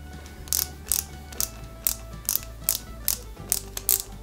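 Small screws are driven by hand into plastic Ecto-1 model kit parts, a run of about nine evenly spaced ratcheting clicks from a screwdriver, close and crisp against quiet surroundings.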